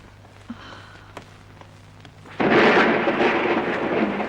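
After a quiet stretch with faint taps, a heavy roar of rain and rumbling thunder suddenly bursts in and continues loudly.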